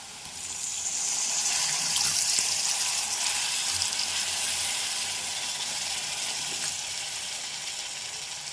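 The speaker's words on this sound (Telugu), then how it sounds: "ఇప్పుడు నీళ్లు పోసేస్తారంటండి." Water pours steadily into a hot pan, hissing and sizzling for several seconds before settling into a softer simmer.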